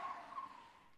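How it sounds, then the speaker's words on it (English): A taxi brakes suddenly in the video game 428: Shibuya Scramble, its tires giving one sustained, shrill screech that holds for about a second and gradually fades, with no voices. "The taxi lurched to a sudden stop as the driver slammed on the brakes."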